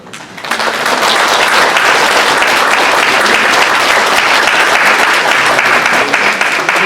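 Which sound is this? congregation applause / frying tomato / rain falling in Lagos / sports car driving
congregation applause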